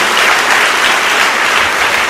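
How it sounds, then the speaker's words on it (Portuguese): Church congregation clapping during a worship service, a loud, continuous burst of many hands applauding together throughout, close and unbroken, with no speech over it. "Dê uma salva de palmas a Jesus."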